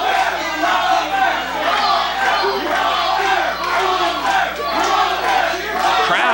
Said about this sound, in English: Crowd is rallying behind Walter Eaton